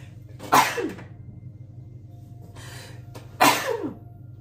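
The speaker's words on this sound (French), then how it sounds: "j'éternue 2 fois" Two sharp sneezes from a person, close and loud, each a sudden burst with a brief breathy tail, about three seconds apart against quiet room tone.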